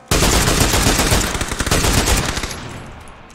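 Loud, close bursts of rapid automatic gunfire in a shooter video game, a dense rattling volley that starts abruptly and fades toward the end, with no voices over it.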